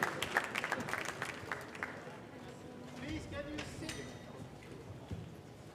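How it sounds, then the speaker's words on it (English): Light, scattered clapping from a small group at an official ceremony, fairly distant and soft, fading as people murmur and chat in the background. "One last round of applause."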